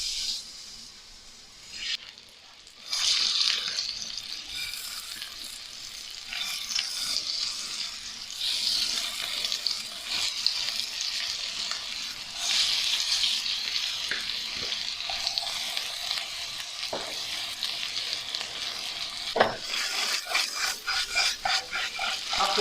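Meatballs dropped into a pan with marinara sauce, sizzling and bubbling steadily for a long stretch, with stirring scrapes and a few sharper clatters near the end.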